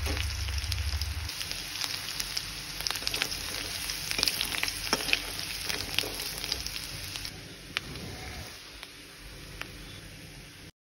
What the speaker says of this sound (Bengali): 1 চা চামচ জিরে ফোড়ন দিয়ে ভালো করে ভেজে নেব